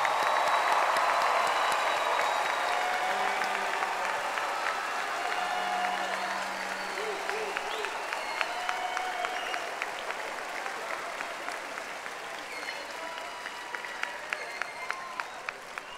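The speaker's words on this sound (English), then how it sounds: "Let's please give them one more round of applause." A high school graduation audience applauding, sustained clapping from a large crowd in a big venue that gradually thins and fades, with faint cheers mixed in.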